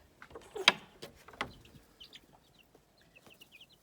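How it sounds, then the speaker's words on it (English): Two-week-old mixed-breed chicks in a brooder give faint, high, scattered peeps, with a couple of louder clucking calls near the start. "40 chicks that hatched about, what was it? 2 weeks ago"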